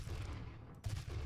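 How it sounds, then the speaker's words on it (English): Rapid bursts of gunfire from the video game DOOM, a dense, continuous low rumble of shots with a brief dip partway through before the firing resumes, loud and close throughout. "Now who's shooting?"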